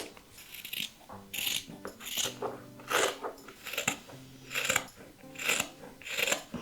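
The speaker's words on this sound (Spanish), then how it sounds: "Vamos a cogerlas aquí y vamos a cortar las 4 a la vez" Scissors snipping through four stacked layers of fabric for a large beach tote bag, a steady series of about seven crunchy cuts close by with faint metallic squeaks between the cuts and no speech.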